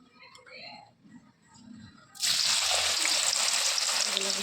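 After quiet background sounds, a loud, steady sizzle of frying in oil bursts in and continues close up.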